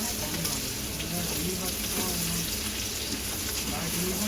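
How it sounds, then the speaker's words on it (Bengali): Potatoes fry with onion, ginger and garlic in a home kitchen pan, producing a dense, even hiss and sizzle that holds steady throughout, with faint talk in the background. "এখানে এই আলু কষছি পেঁয়াজ দিয়ে"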